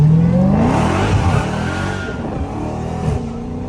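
A straight-piped Dodge Challenger Hellcat SRT engine revs and pulls hard from inside the car, a loud, continuous rising roar that stays close and dominant throughout.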